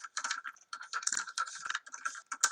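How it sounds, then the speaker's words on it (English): Rapid, busy keyboard typing in fast bursts of clicks and clacks, close and fairly loud, with short pauses between flurries and no talking. "she's typing like a maniac"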